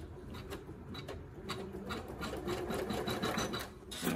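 An embroidery machine sews the placement stitch for an in-the-hoop reindeer hand sanitizer holder, a close, continuous rasping whir with rapid needle ticks throughout.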